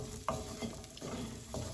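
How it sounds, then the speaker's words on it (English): Vegetables with garlic and ginger being stirred and fried in a pan for Chinese cooking, a soft sizzle with a few scraping stir strokes, close by and without talk. "Right, now I'm gonna give it a little mix."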